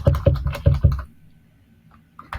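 Crisp, close computer keyboard typing as HTML and CSS code is entered, a quick run of about six keystrokes followed by near silence and a couple of faint later taps.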